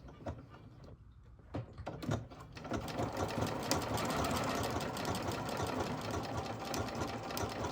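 A domestic sewing machine works through a triple stitch, a steady close whirring that builds after a few clicks and knocks at the start. No voices.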